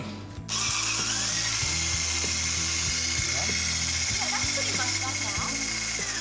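An electric kitchen mixer whirs steadily as it blends a sugar mixture with cacao powder and almond meal. It starts suddenly after a short pause and runs loud and close to the end.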